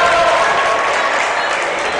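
Crowd at a women's college basketball game between Marian and St. Francis applauding steadily, a dense wash of clapping and cheering at close range with no break for the whole moment.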